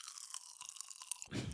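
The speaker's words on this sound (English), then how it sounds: "There's no endless chewing, just exploding, as you can hear." Mint crystals burst and crunch while being chewed, a dense run of crisp crackling pops close to the mouth, ending in a heavier, muffled crunch.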